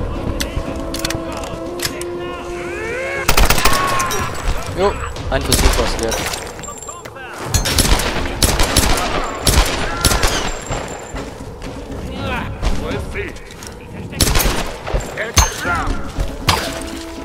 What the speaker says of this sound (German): Na toll, vier Schüsse in der Richtung